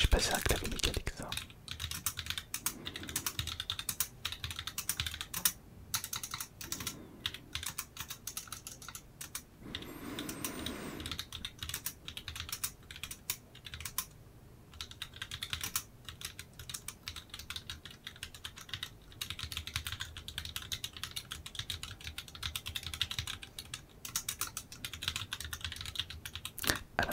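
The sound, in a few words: typing on a mechanical computer keyboard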